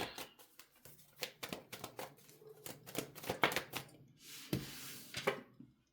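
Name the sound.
shuffling tarot cards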